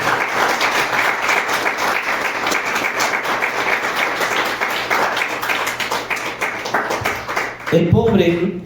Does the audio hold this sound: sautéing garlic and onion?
no